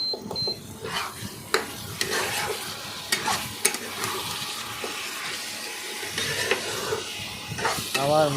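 Mutton with chili powder for biryani fries in a pan while being stirred back and forth, a continuous nearby sizzle broken by repeated scraping and knocking spoon strokes.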